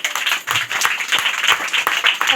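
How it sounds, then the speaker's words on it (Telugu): A church congregation claps loudly during a Telugu sermon: a dense, steady wash of many hands close by, holding for the whole stretch with no voices on top. "దేవుని రాజ్యం ఉందన్న వాళ్ళు గట్టిగా చప్పట్లు కొట్టండి"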